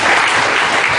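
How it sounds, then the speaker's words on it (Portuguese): An evangelical church congregation at a Friday service claps together, a dense burst of loud, continuous applause filling the room. "Vamos aplaudir Jesus."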